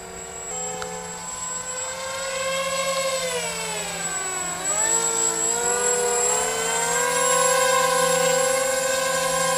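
RC foam MiG-29 Fulcrum jet with twin motors using differential thrust for rudder control, flying past with a steady whine that dips and rises in pitch, growing louder toward the end.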